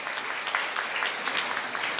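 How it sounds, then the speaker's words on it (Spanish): Steady applause from an audience at a school awards ceremony, many hands clapping evenly throughout with no pauses or voices. "Fuertes aplausos para este salón."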